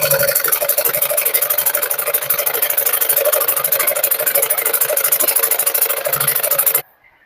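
A sewing machine runs steadily while stitching a princess-cut blouse, a fast continuous motor whir with rapid needle ticking that holds level for about seven seconds, then stops abruptly into near silence.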